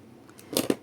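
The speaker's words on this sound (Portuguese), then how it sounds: "Aqui, ó, eu vou cortar o excesso." Scissors snipping off excess thread while sewing a handbag on plastic canvas: two quick, crisp snips close to the mic, faint and brief after a moment of near silence.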